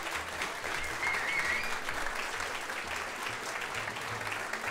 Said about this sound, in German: Nochmal einen fetten Applaus für die 3 Winner hier.